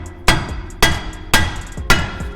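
Four sharp metallic hammer whacks at an even rhythm strike a brake rotor seized to the hub of a Dodge Ram SRT-10, each one loud and close with a short ringing decay.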